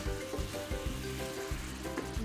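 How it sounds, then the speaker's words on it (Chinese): Small squid with a few slices of ginger frying in a hot wok, a steady, fairly quiet sizzle with faint stirring scrapes under background music. "然后我哋将啲鱿鱼放落锅爆香"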